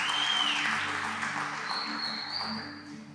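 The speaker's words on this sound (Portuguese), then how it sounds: "Uma salva de palmas para Magali, gente." Audience applause at a Mother's Day special show, a steady, fairly soft wash of clapping from a crowd, with a faint high tone running through it and no speech.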